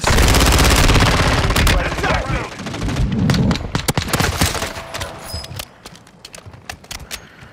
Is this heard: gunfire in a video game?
yes